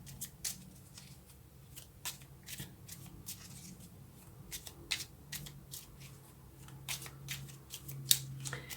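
Tarot cards being shuffled by hand at close range, a quiet run of crisp riffles and soft flicks in an irregular rhythm, with faint low background hum and no talking.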